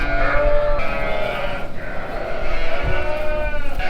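Sheep bleat loudly and close by during lambing, with a newborn lamb's calls in the mix, several overlapping cries over a short stretch.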